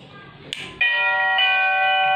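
After a brief switch click, an electric water tank overflow alarm bell starts ringing, a loud continuous metallic tone that keeps going once switched on.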